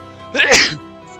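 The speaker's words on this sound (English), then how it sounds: "I just sneezed my headphones off my damn head." A single sharp, close sneeze bursts out loudly over a quiet background, brief and forceful.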